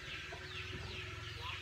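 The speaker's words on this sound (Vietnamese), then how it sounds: "mình sẽ đi xem mấy con gà ồn ào quá" Noisy chickens cluck at a low, steady level beneath a constant rhythmic background hum, with no voices.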